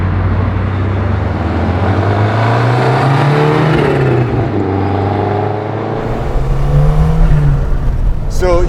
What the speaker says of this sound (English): Man, I can't believe how loud that wastegate is.